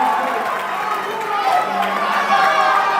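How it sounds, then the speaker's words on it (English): A crowd at a bouldering competition final cheers and shouts encouragement to a climber, a sustained dense roar of many voices with bursts of chatter throughout. "Crowd's really willing her up."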